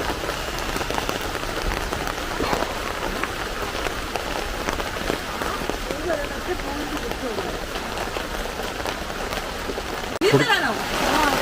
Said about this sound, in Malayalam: അടുത്തൊരു മഴ വരുന്നുണ്ട്